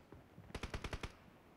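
A short burst of about six rapid machine gun shots rings out in a video game firefight, evenly spaced and fairly loud, with no talk.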